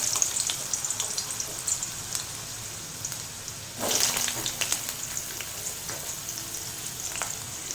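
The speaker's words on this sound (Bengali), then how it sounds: "এখন যতক্ষণ এই বাঁশকরুলটা ক্রাশ করছি ততক্ষণ আমি আলুগুলো ভেজে নেব।" Potato pieces fry in hot oil in a wok, giving a steady, crackling sizzle that swells briefly around the midpoint as they are stirred or turned. No one speaks.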